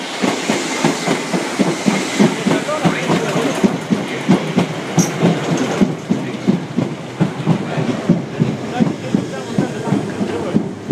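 A Class 455 electric multiple unit pulls out of Clapham Junction, its wheels beating out a steady, rapid clickety-clack over rail joints at close range, loud and continuous throughout with no voices.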